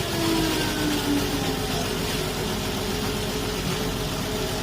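Perkins diesel tractor engine idling in cold weather, a steady, dense mechanical drone with a low knocking pulse, running continuously and close by with no voices.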